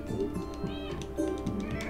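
A cat meows repeatedly in the video game Stray, with several drawn-out cries over a steady game background.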